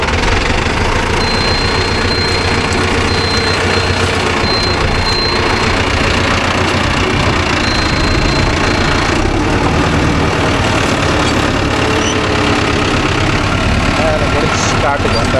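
A Mahindra Arjun Novo 605 DI tractor fitted with a rotavator runs with a loud, steady diesel drone, heard close up, while a voice talks over it.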